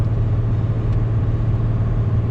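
A diesel truck engine drones steadily while driving, a loud continuous low rumble with road noise and no pauses or voices.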